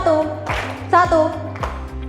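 Children in a classroom clapping game clap in counted patterns, a few sharp separate claps spaced between a teacher's chanted counting.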